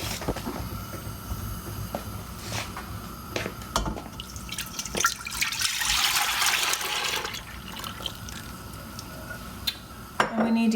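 Heavy cream pours into a pot in a home kitchen while making vanilla ice cream, a steady liquid splash with light clinks of cookware, close and moderately loud.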